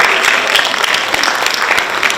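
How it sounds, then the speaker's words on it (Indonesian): Audience applause at a psychology conference and workshop in 2015 as a guest is invited to the front: steady, dense clapping from a crowd filling the room, continuous throughout. "kita berikan aplaus."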